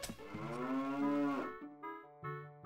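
A cartoonish cow moos twice in Zelda: Ocarina of Time, a long, loud, harmonic moo followed by two shorter lowing calls, heard alone with no talk.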